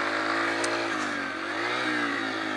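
A Yamaha TTR 125 small dirt bike engine revs steadily and loudly up close, its buzzy harmonic whine rising and dipping slightly through a continuous two-and-a-half seconds with no talking.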